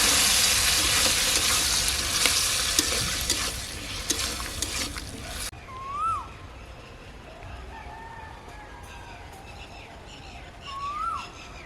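Green peas hit hot oil in a pan for village-style ghugni, giving a loud, dense sizzle that cuts off abruptly midway. Quieter kitchen sounds follow, and a rooster crows twice in the background.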